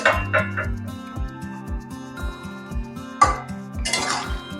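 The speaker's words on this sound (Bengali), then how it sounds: "ঢাকনা তুলে নিচ্ছি" A lid lifted off a pot of simmering vegetables and fish, clinking and tapping against the rim with short metallic rings over a quiet musical background.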